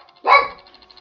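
A dog lets out a single sharp, fairly close bark that rises and fades within half a second, in an otherwise quiet room.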